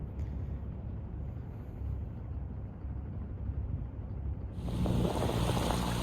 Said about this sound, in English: We are motoring along down Hood Canal.